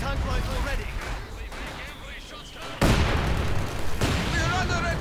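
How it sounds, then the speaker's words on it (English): Mortar rounds burst in a World War II strategy game battle, several booming impacts including a sharp loud blast partway through, layered with distant gunfire while a commentator talks. "German mortar rounds trying to deal with a heavy mortar"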